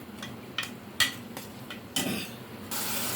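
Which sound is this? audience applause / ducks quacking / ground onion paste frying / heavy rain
ground onion paste frying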